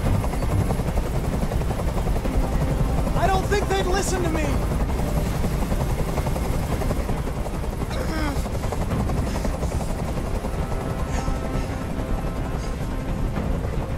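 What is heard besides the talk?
helicopter hovering in a video game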